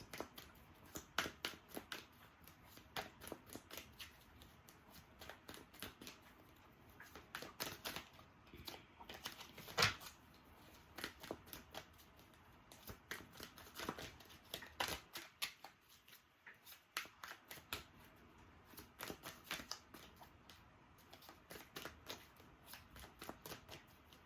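Tarot cards are shuffled and drawn in rapid, crisp riffling flutters that repeat in quick bursts throughout, close and fairly quiet, with no talking.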